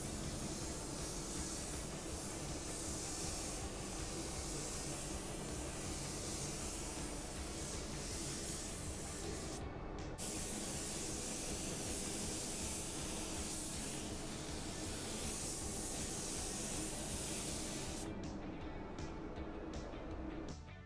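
A spray gun lays a wet coat of gray metallic automotive paint, giving a continuous loud airy hiss that breaks off twice for a moment before resuming.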